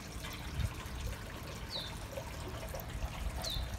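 Water trickles and splashes in a hydroponic growing setup with an oxygen pump, a continuous low babbling flow with small irregular drips and gurgles, fairly close and moderately quiet, with no talking.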